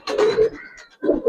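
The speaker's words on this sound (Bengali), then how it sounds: "ভাই একবারে ফুল জাপরা পাঙ্কি কবুতর ভাই" A full jaapra pankhi pigeon coos close by in two short, loud, throaty bursts separated by a brief pause.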